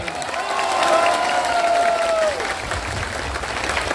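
An audience at a political rally applauds, dense clapping from a crowd that swells and stays loud throughout, with a sustained tone sounding over it and a voice faintly audible beneath.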